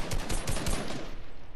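Rapid gunfire in a first-person shooter video game, a fast burst of close, loud shots in quick succession that fades out toward the end.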